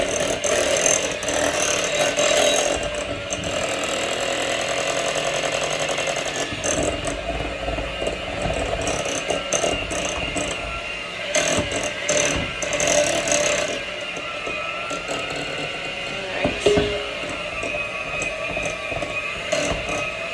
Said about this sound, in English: you might just get to deal with the noise of the beating